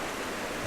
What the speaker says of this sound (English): The water effects are cool, man.